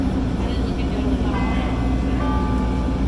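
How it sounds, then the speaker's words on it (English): Chicago CTA Brown Line train bound for Kimball, a steady low rumble and hum of the rail car, heard from inside, with a recorded announcement voice over it throughout. "This is a brown line train to Kimball."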